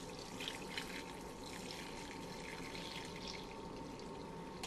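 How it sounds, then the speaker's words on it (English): Seitan broth is poured steadily into a plastic container, making a continuous close splashing, trickling liquid rush with no pauses throughout. "You just want to pour the broth in there until it gets to the top."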